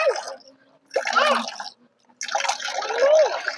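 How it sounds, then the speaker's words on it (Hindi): Water splashes and trickles in short bursts as hands and a face are washed outside a temple, with wet rubbing, dripping and brief pauses of near silence in between. "सबसे पहले हम हाथ मुंह धोकाते हैं"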